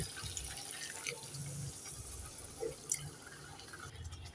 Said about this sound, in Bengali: এবার আমি অল্প একটু দিয়ে দেব জল